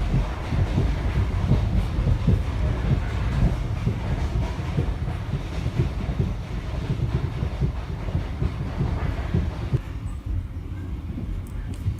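Steady rumble and rattle inside a first-class carriage of an overnight Vietnam Rail train, with rhythmic clickety-clack of the wheels throughout and the noise easing slightly near the end; no one talks.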